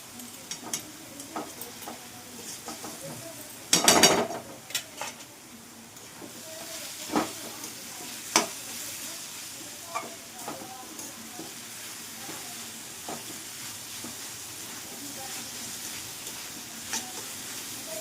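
Pumpkin pieces frying in ghee in a pan while halwa is made, giving a steady, faint sizzle with occasional stirring scrapes and one louder clatter near the start.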